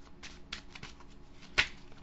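A deck of playing cards being shuffled by hand nearby, a run of soft riffling flutters ending in a sharper snap as the cards fall together.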